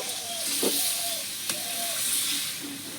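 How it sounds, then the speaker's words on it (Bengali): Chicken and potatoes sizzling in a pan as a little water goes in, producing a continuous close hiss of frying and steam with a couple of brief clinks. "আমি অল্প করে একটু জল দেবো আলু আর মাংস সেদ্ধের জন্য"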